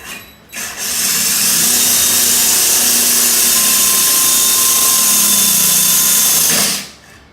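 Loud, steady whirring drone of a power tool cutting a circular hole in porcelain tile, starting after a brief burst and running continuously for several seconds before winding down.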